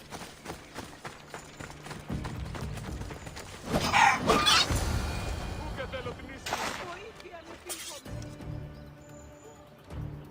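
Chickens cluck in Assassin's Creed Odyssey, a few fowl calls rising over game ambience and a loud burst of in-game action around the middle before it settles.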